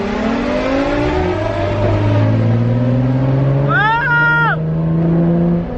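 A Nissan 350Z with a loud exhaust revving hard during a race against a G37: a close, loud engine note climbs steadily in pitch, a brief higher rev surges near the end, and voices exclaim over it.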